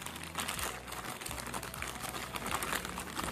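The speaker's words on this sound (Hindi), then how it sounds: "इसकी पन्नी को हम फाड़ते हैं यहाँ से हम इसकी पन्नी को पूरी फाड़ लेते हैं।" Plastic film wrapping on a Boya BY-M1 lapel microphone package being torn and crinkled open up close, a continuous dense rustling with no talking.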